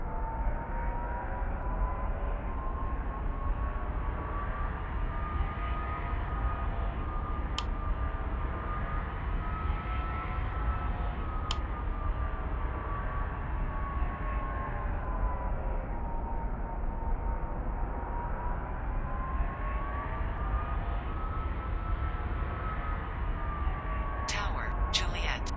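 Aircraft taking off from a runway, its engines a steady, loud roar with a sustained whining tone that rises and falls slightly throughout, plus a couple of brief clicks.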